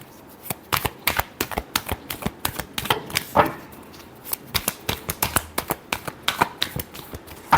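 Tarot cards being shuffled by hand in steady, rapid bursts of crisp riffling clicks, close and fairly loud, with brief pauses between riffles and no voices.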